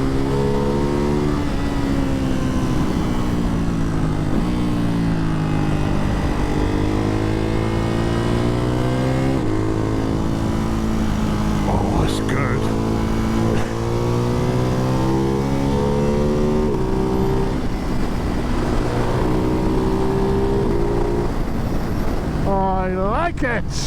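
A Ducati Hypermotard 698 Mono single-cylinder supermoto with a Termignoni exhaust revs hard and climbs through the gears, its loud rasping note rising and falling repeatedly under heavy wind noise, close to the microphone, with a voice heard over it.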